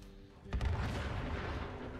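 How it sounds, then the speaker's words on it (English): A deep boom from a truck exploding in the video game Fallout 76 bursts out and trails off into a long, fading rumble, fairly quiet overall. "There's the explosion."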